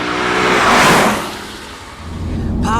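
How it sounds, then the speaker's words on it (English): Lexus IS-F V8 engine revving hard toward the red line, a loud swelling roar that peaks and fades, then a lower steady engine drone as another rising whine begins at the end, all close and without talking. "the amazing sound that thunders through the cabin as the massive V8 does what it was"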